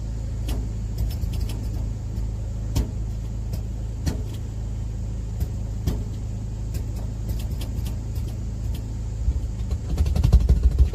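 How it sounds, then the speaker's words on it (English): Road traffic speeds past a 7-Eleven gas station in southwestern Pennsylvania: a steady low rumble of engines with occasional faint whooshes of passing cars, growing louder near the end, and no one talking. "you can hear the traffic going by really fast"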